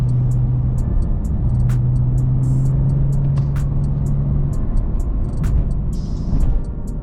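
A Stage 2 tuned 991.2 Porsche 911 Carrera races a stock BMW M3 on the road. A steady engine rumble with a sustained drone runs throughout, with scattered sharp clicks and ticks.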